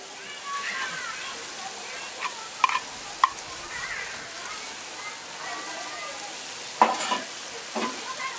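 Lamb and onions sizzle steadily while frying in a Dutch oven, with several sharp scrapes and clanks of stirring at irregular moments; the frying stays fairly quiet and close.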